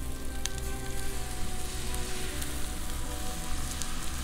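Bacon sizzles in a seasoned cast iron skillet, a dense, steady frying crackle that holds at an even, fairly loud level throughout with no one talking.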